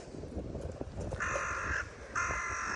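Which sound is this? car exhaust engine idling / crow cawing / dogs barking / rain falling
crow cawing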